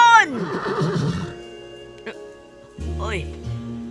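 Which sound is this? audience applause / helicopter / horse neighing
horse neighing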